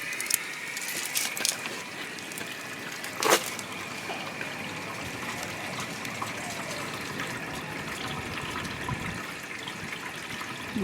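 Water runs steadily through a hose extension into a camper's fresh-water tank, a continuous gushing hiss at close range with one brief louder splash early on, no voices.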